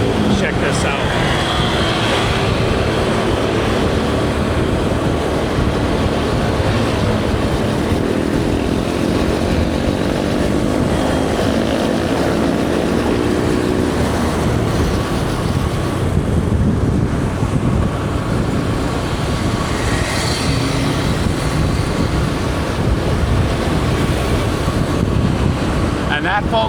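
A boat cruising on the Chao Phraya River in Bangkok at sunset, with steady engine drone, rushing water and heavy wind buffeting the microphone throughout, and a voice talking over it at times.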